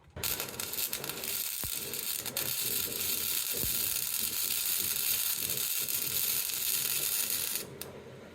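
A ratchet works a bolt with a welded-on nut on a rusty 2500HD truck's 14-bolt axle, giving a steady, continuous grinding click over several seconds, close and fairly loud, before it stops abruptly.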